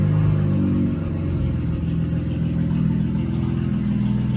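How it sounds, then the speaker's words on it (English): A Nissan Z car pulls away in drive on a test drive, its mid-pitched engine rumbling steadily and close by with a mild swell of revs, no talking over it. "Let's take it for a little test drive. Got it in drive. Let's see if it moves."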